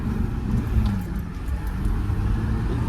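A Volkswagen Amarok V6 pickup with 256 brake horsepower drives across a field, its engine a steady close low rumble that rises slightly near the end.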